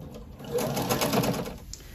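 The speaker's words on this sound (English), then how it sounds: "we're going to sew our short strips of binding to the lining side of each one" Sewing machine running steadily for about two seconds, stitching short strips of binding with a quarter-inch seam onto the lining side of quilt-as-you-go potholders; a close, even whir with no speech.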